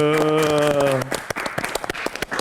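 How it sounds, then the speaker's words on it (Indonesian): Studio audience applause breaks out after a sustained tonal passage, a burst of dense clapping that quickly thins into scattered claps over the last second. "Tepuk tangan dulu."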